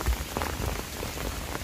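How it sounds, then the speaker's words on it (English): Steady rain falls outdoors during a magnet-fishing outing, a close, continuous patter of drops on the surface with no voices. "it's just because of how it's raining"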